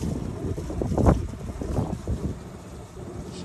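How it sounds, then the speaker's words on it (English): Wind gusting around a sailboat at sea while crossing the Bay of Biscay in rough upwind conditions, a steady roaring rush with a stronger gust near the start. "Just have to hope that this wind doesn't push the bow back in."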